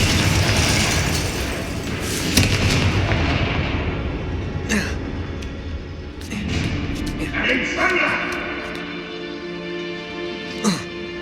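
Explosive spell blasts in Hogwarts Legacy, a few heavy booms and crackling bursts with sharp pops, loud and near, under a spoken voice calling out spell names.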